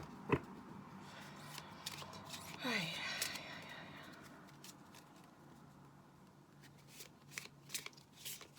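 Cards are shuffled close by, a quick riffle and soft papery flicks against a faint room hum, with occasional light taps and no speech.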